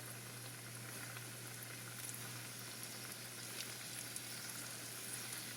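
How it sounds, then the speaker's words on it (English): Steady, dense frying sizzle and crackle of pork dumplings in a pan, continuous and close, with no talking. "My next batch in so it can start frying."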